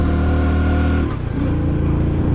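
A car engine while driving, a car that earlier had overheating trouble, hums close and loud with strong low harmonics; partway through the pitch dips briefly as with a gear change, then settles back into a steady drone.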